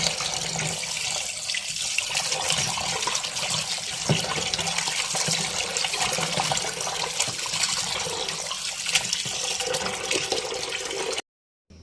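Goat meat rinsed under a steadily running tap, a continuous close splash of water over a sink with small shifts in flow, then the water cuts off abruptly near the end.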